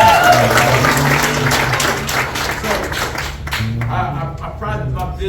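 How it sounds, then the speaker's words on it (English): An event crowd at a regional business gathering in Miami applauds, dense sustained clapping that fills the room, with a few voices mixed in beneath it. "Everybody give me a round of applause."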